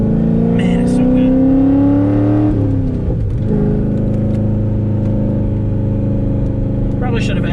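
A cammed C6 Corvette's engine revs through a downshift, a loud rising drone that drops suddenly, then settles into a steady deep rumble with a lumpy cam note, heard from inside the car with people talking over it.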